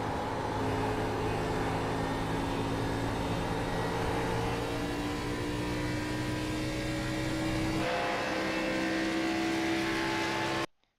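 NASCAR race car lapping at Nashville, a steady high-pitched engine drone held at sustained revs, shifting tone near the end before cutting off abruptly; no talking.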